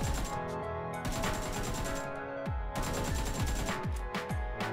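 Short bursts of PUBG rifle fire, several loud close volleys of rapid shots separated by brief pauses, each ending in a quick decaying echo.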